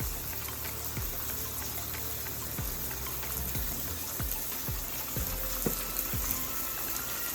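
Heavy whipping cream pours into a hot pan of garlic chicken and potatoes, a steady liquid gush over sizzling frying with a few soft clinks, close and continuous without speech.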